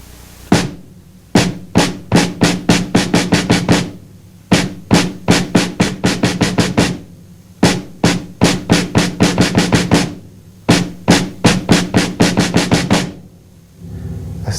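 Drum exercise with the right hand and right foot played flat-footed, tight together on a 1984 kit: loud, crisp repeated strokes in one-measure phrases that step from quarter notes through eighths and triplets to rapid sixteenths, repeated several times.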